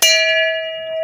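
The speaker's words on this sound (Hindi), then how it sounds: "यहाँ पे घंटी बजा रखी है" A bell at the Thalkedar Mahadev temple beside a stone shivling rings with one clear, loud metallic strike, and its bright ringing tone hangs on and slowly fades through the second.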